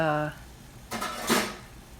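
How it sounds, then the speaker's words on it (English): Dry spaghetti rattles and clatters into a metal pot in a home kitchen, two short bursts of scraping and clinking after a brief tone, fairly close and alone. "I'm going to pop the pasta in"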